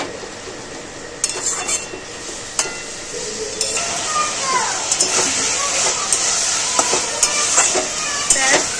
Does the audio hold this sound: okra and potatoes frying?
yes